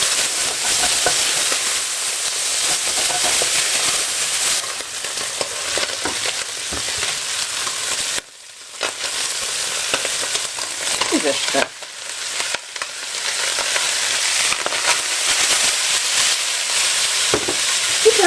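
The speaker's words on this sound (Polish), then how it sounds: "mieszam to i obsmażam głównie 2-3 minuty" Close, steady frying hiss as ingredients for a young white cabbage soup are stirred in homemade clarified butter, with scraping stir strokes throughout and a couple of brief drops in the sizzle.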